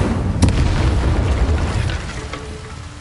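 Fiery Incendio spell blasts in the video game Hogwarts Legacy, a sharp boom at the start followed by a dense, rumbling roar of flames that slowly fades over a few seconds, loud and close with no talking.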